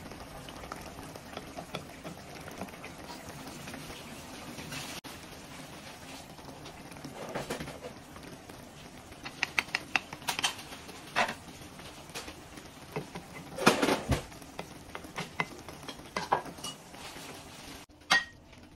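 Beaten egg poured in and stirred into simmering sarciadong tilapia, a soft bubbling sizzle with scattered light clinks and taps of a utensil against the pan, quiet and close.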